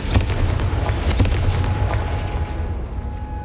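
The Confringo explosion spell in Hogwarts Legacy bursts with a few sharp booming blasts at the start, then a low rumbling tail that slowly fades.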